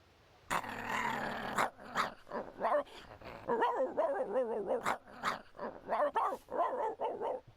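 A vicious dog in a film scene snarls and barks up close, with growling bursts and sharp barks following one another steadily and loudly, with no voices over it.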